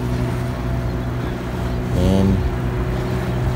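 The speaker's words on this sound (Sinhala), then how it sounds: "තව බෝට්ටුවක් එනවා ඒක නම් ළඟටම එනවා" A fishing boat's outboard motor comes close by at sea, its engine hum rising loud for a moment around the middle before settling back into steady wind and water noise.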